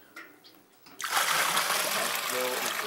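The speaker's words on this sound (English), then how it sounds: "And the faster it flows, that means that we've extracted everything that we can extract from our grains" Sparge water runs from mashed grains during homebrewing, starting quiet and then surging into a steady, close, rushing splash and trickle of liquid that holds on to the end.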